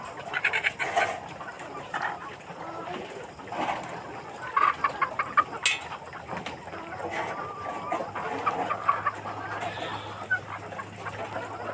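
Chickens cluck and squawk in cages at night after installation in Villaba, Leyte, with repeated scattered bursts of near and farther calls over a busy ambient background and some voices.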